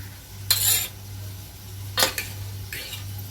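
Metal cookware clinks and clatters in a kitchen while a pot is covered with its lid during steaming of rui fish; three short, bright metallic clanks, fairly close, over a steady low hum.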